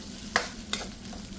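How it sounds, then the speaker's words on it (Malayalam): Onions sautéing in a pan for tomato rice, a low steady sizzle broken by two quick scraping stirs of a spatula, close and brief. "ഇനി നമുക്കിതിലേക്ക് സവാള ഇട്ട് കൊടുക്കാം. നന്നായിട്ടൊന്ന് വഴറ്റി കൊടുക്കാം."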